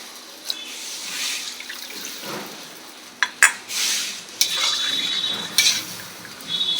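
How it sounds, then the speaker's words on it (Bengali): Water is poured into a pan of cooked spices while a fish curry is made, giving splashy pouring bursts and light clinks of a pot and utensil, close and moderately loud, with no voices. "এবার জল দিয়ে দেবো।"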